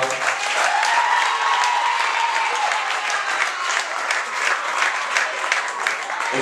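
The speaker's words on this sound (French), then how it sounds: "Et je voudrais demander d'applaudir très très fort le respect et le collectif de l'histoire." A crowd claps loudly and continuously at a public gathering in Cité Barkly, Mauritius, with scattered shouts and cheers mixed into the thick wash of applause.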